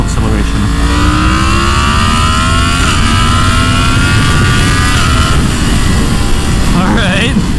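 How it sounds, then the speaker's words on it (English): A Yamaha MT-10 motorcycle with a freshly flashed ECU accelerating at full throttle, a loud close engine wail climbing steadily in pitch, then a shift and new rise near the end, with a rider speaking over it. "Make sure there's no one in that driveway and full acceleration."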